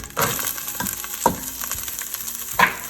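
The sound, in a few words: celery, carrots, onions and garlic cooking in olive oil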